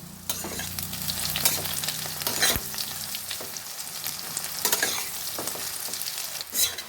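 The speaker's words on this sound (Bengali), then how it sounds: "সয়াবিন বড়িগুলো তেলের মধ্যে দিয়ে লাল লাল করে ভেজে নেব" Soya chunks frying in hot oil in a wok, a loud continuous sizzle with scraping stirring strokes and sharp clatters of the spatula, close up and without speech.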